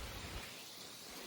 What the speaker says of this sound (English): As you can see, it is raining.